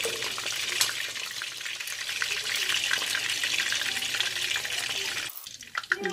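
Shallots frying in hot oil, a steady loud sizzle and crackle that continues for several seconds before briefly dropping away near the end.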